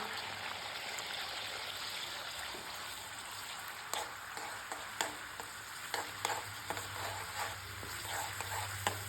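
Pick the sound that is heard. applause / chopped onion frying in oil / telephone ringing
chopped onion frying in oil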